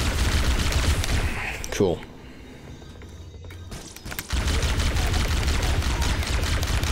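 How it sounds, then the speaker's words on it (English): A plasma rifle in Halo Combat Evolved Anniversary firing rapid repeated bursts, breaking off for a couple of seconds and then resuming just as steady and loud, with a short spoken word in between. "plasma rifle's good"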